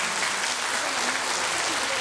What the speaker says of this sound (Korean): 우리는 또 박수를 좀 쳐드려야 되겠네요.